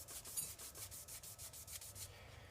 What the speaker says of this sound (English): what I'm trying to accomplish now, is just deburring these holes that I just drilled